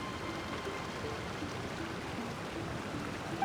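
Steady, soft rush of falling water from a waterfall in Genshin Impact, a continuous low wash of sound with no voices or other events on top.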